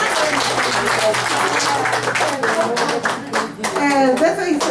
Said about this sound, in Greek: Ένα χειροκρότημα για τον κύριο.